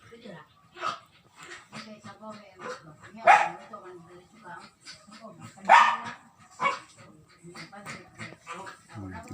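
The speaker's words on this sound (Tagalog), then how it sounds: "Ang aso kong Pomeranian nagalit." A Pomeranian barks sharply in repeated bursts, yapping and growling in an agitated way, with a person talking in between.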